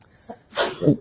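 A single short sneeze preceded by a quick intake of breath, close and fairly loud.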